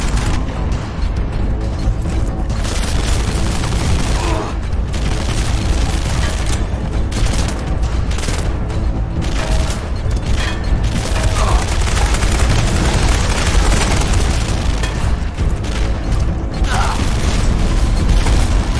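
Continuous dense gunfire and explosions during Terminator Salvation combat, a steady loud wall of shooting, booms and mechanical clatter for the whole stretch with brief spikes of blasts.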